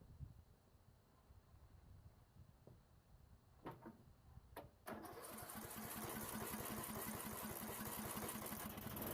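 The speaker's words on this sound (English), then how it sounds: "Voila, it starts right up." A Troy-Bilt riding lawn mower's starter cranks with a couple of sharp clacks, then its small engine catches and settles into a loud, steady, rattling run nearby.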